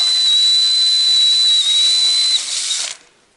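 A loud, steady high-pitched whine of a hole saw cutting into a chest freezer lid, sustained for nearly three seconds before winding down and stopping.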